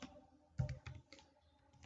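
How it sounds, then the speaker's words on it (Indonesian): Computer keyboard keys tapped in a short burst of several quiet clicks while entering data into a Microsoft Excel spreadsheet, close and isolated. "A4 kita ketik no."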